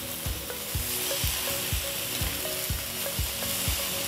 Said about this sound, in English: The steaks are sizzling.